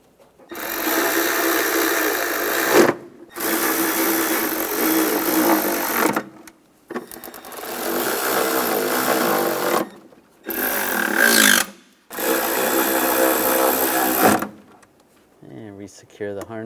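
A power tool whirs in several bursts of a few seconds each, separated by short pauses, while snugging down intake bolts on a 1996–2002 Toyota 4Runner during an intake gasket replacement.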